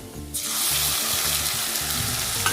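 Garlic sizzles steadily in hot oil in a pan, a loud continuous frying hiss that starts abruptly after a brief quiet moment and holds evenly, with no talking.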